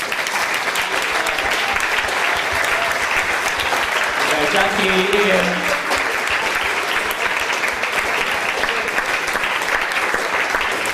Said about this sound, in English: we can give you a round of applause